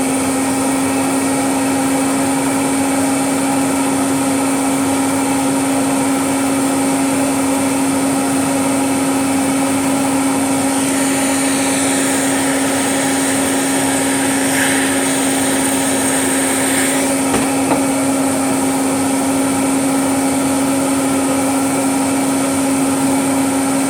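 Electrolux vacuum cleaner running steadily and alone, a loud constant motor whine with a strong hum that holds the same pitch throughout, with a brief shift in tone partway through.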